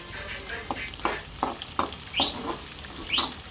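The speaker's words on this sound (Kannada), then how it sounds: "ಎಣ್ಣೆಯಲ್ಲಿ ಫ್ರೈ ಮಾಡ್ಕೋಬೇಕು ಅದು ಮೆಣಸಿನ್ಕಾಯಿನ" Green chillies fry in hot oil with mustard seeds and cumin, giving a soft sizzle punctuated by quick popping crackles and stirring clicks, close by and fairly quiet.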